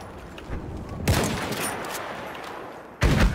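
Bursts of rapid gunfire in the Battlefield 1 video game on a fortress conquest map, one loud automatic volley starting about a second in and another sharp burst near the end over a low background.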